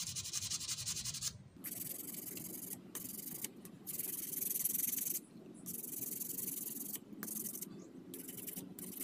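Sandpaper rubbing over a homemade steel fishing hook for eels, a steady close scratchy rasp in long strokes broken by several short pauses.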